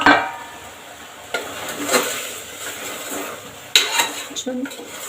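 A metal spoon scrapes and clanks against a pot while vegetables are stirred in oil for hotel-style sambar, with loud sharp knocks at the start and again near the end and a faint sizzle between them.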